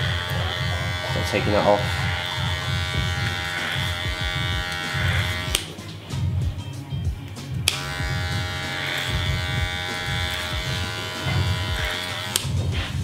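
Electric hair clipper buzzing steadily through a basic clipper-over-comb haircut at the back of the head, close and continuous with brief pauses, while someone talks over it.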